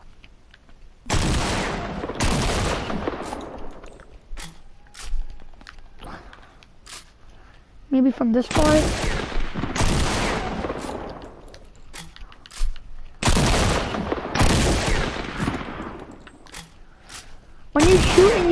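Shots fired at llamas in a video game ring out as loud, sharp bursts in a few clustered volleys, each blast trailing into a short tail, with a voice speaking between them.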